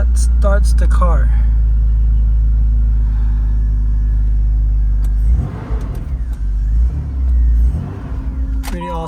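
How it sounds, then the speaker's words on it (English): A 2000 BMW Z3 Coupe E36 engine started with a newly made key, idling as a loud, steady close-up rumble, with people talking over it in the later part. "That starts the car."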